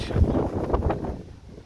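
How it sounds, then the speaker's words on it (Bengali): Strong wind blowing outdoors in the UK, tossing tree branches and leaves: a brief, close, low buffeting rumble against the microphone, swelling and easing in gusts. "দেখেন কি বাতাস।"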